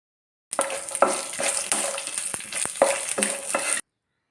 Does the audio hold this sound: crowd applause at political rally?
no